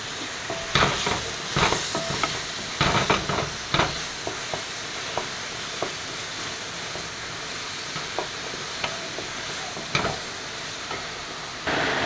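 Chopped tomatoes sizzle and hiss in a hot frying pan while mutton biryani masala cooks, with scattered stirring scrapes and clinks over a steady, close frying crackle.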